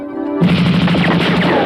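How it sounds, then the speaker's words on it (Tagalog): Gunfire in a Filipino action film, a loud dense burst of rapid shots crackling continuously after a brief tonal lead-in. "Napakarami ng putukan."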